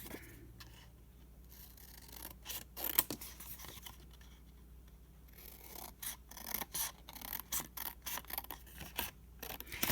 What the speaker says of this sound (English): This is for Rolodex art cards. We just cut them like that.